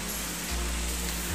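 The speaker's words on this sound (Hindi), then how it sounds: "हमारे यहाँ ना सुबह से ही मतलब बारिश हो रही है" Steady rain falls outdoors in the evening during a rainy day, producing a dense, even hiss with a low rumble underneath and no voices.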